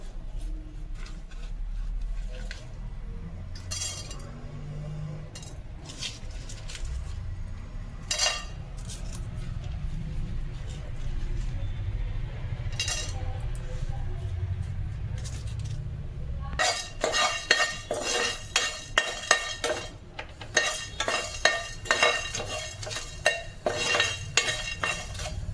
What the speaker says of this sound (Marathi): तर आपण खडे मसाले भाजून घेऊया।